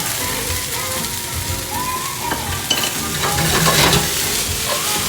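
Carrots, added to onion, sizzle loudly in a hot pan and are stirred with continuous hissing frying and occasional scraping clatter from the utensil.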